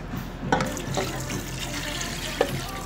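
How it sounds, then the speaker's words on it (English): Water running from a kitchen tap into a pot for cooking coconut rice, a steady close splashing stream with a few brief louder clinks, no talk. "I'm gonna pour water into this and let it boil for about"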